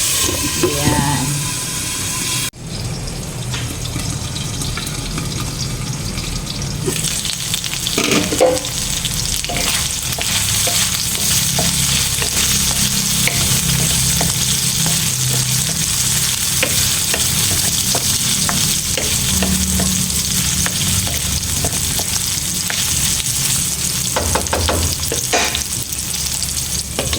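Meat stirred and frying in a pan for a Filipino home-cooked dish, a steady loud sizzle with scraping stirs throughout and a lid or utensil clatter near the start, with occasional brief talk.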